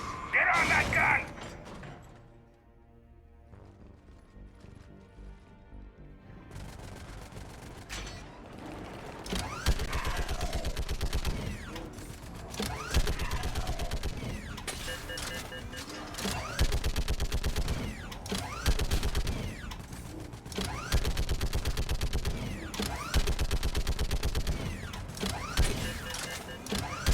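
Video game gunfire from a Mass Effect 3 combat scene, with rapid mechanical bursts and clattering shots repeating through much of the stretch under game sounds and voices.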